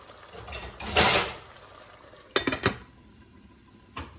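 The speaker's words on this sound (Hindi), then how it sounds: "यहाँ पर मैं इसे ढक के रख देती हूँ।" A lid set down on a chicken karahi pot gives a clattering metallic clank near the start, followed by two or three sharper knocks a bit later and one final small tap, all close and fairly quiet.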